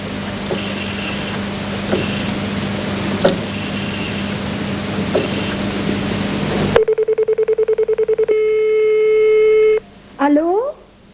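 A telephone dials with a quick series of touch-tone beeps, then gives a long steady tone followed by a short rising ring pattern, loud and close after a stretch of background hum and clicks.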